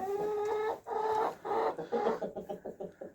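A cockerel crows nearby in drawn-out harmonic calls, then breaks into a rapid series of short, rhythmic clucks.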